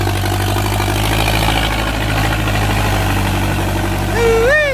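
A New Holland 6640 tractor engine idles steadily with a low, throbbing rumble and constant drone, close by; a brief rising squeal near the end.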